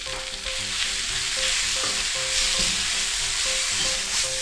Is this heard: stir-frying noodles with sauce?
yes